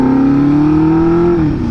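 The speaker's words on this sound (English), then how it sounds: "So this is a 1974 Honda CB400Four, and it's a screamer" A 1974 Honda CB400Four four-cylinder motorcycle engine revs hard and close, its steady high-pitched whine climbing slightly then dropping off near the end, with no voices.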